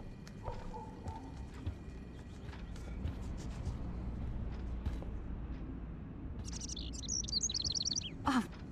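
A bird trapped indoors in the video game Life is Strange, chirping and fluttering in short bursts over a low ambient hum, with sharper calls near the end.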